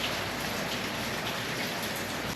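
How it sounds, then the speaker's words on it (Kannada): Heavy rain pours down outdoors in a steady, dense hiss that stays loud and even throughout, with no voices. "ತುಂಬ ಜೋರಾಗಿ ಮಳೆ ಬರ್ತಾ ಇದೆ"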